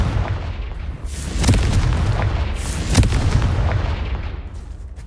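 Confringo fire-blast spell explosions in the video game Hogwarts Legacy, booming bursts with sharp cracks that swell and fade over a few seconds, loud and close with no talk.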